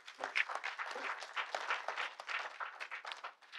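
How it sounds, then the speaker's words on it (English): A medical conference audience at a hernia summit applauds the joint organizing secretary, giving a dense, steady burst of clapping from many hands, fairly close and even in level, over about three and a half seconds. "I want at least claps for him"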